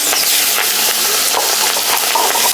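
Prawns sizzling in hot oil in a wok, a loud, steady frying hiss with crackles, close and continuous with no talk.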